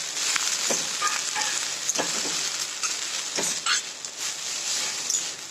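Sago khichdi with whole peanuts is stirred in a pan over heat, producing a constant bright sizzle with intermittent scraping strokes and light clinks, close up.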